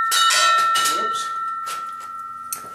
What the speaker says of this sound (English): I guess that bell's done, huh?